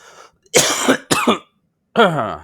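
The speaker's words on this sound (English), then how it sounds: "this cough is about to annoy the hell out of me" A race commentator coughs several times, loud and close, in two quick bursts and then a rougher, throatier one after a short pause.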